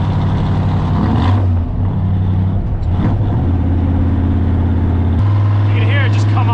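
A high-compression Ford F100 truck engine with a carburetor and single-plane intake drones loudly on a street drive, its steady rumbling hum stepping up in pitch as it comes on power, with someone talking over it.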